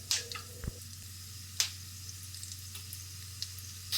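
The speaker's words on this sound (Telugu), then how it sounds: "పల్లీలు కాస్తంత వేగిన తర్వాత పచ్చెనగపప్పు వేసుకొని వేయించుకోవాలి." Peanuts and chana dal frying in oil for pulihora, a soft steady sizzle with occasional crackles and pops.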